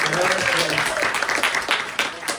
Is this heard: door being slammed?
no